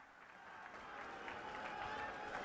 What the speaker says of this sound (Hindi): जोरदार तालियों से स्वागत करिए मनीष जी का